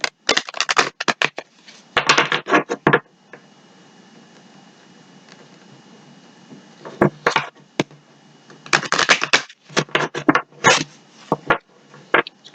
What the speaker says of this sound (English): I'm going to give them a couple shuffles.